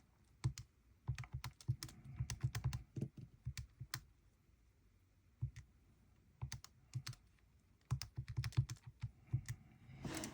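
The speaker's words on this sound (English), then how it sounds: "We're gonna type it in exactly how we see it." Numbers being typed on a computer keyboard into a calculation, in quick bursts of close, crisp key clicks separated by short pauses, with no talk.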